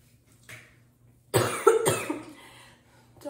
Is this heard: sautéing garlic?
no